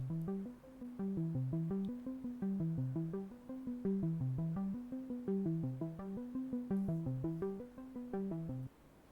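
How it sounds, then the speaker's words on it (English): A percussive synth lead pulses in a steady repeating pattern of short plucky notes, looping the same melodic figure throughout at moderate volume, part of a Stranger Things opening theme remake. "this one, I pick a synth lead percussive pulse"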